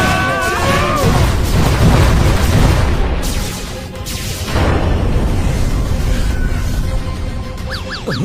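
A cartoon spaceship attack brings loud, heavy booms and crashing gunfire-like blasts in rapid succession, easing briefly mid-way before more bursts follow, with a few electronic warbling tones near the end.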